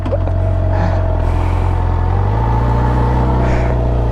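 A motorcycle's aftermarket exhaust idling and blipping at a roadside stop in Wales, a loud, close, deep rumble that steps up in pitch partway through, with no voices.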